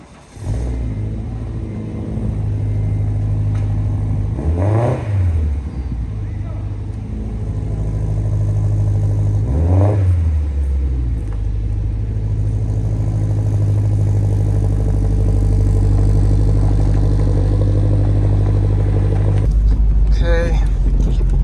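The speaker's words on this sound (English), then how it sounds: "So I'm gonna take it around the block, see how it drives" A turbocharged Honda Civic FD2 with fender flares and 265 tires drives slowly around a block, its engine a steady low drone inside the cabin with two gear-change dips and a rising rev, while someone talks throughout.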